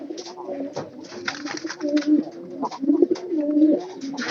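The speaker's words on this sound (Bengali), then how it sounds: "ডাকতেছে কিন্তু পায়রাটা।" Pigeon cooing in a pigeon loft: repeated low, throaty coos in close, rolling phrases, with a little mixed chatter and background noise between calls.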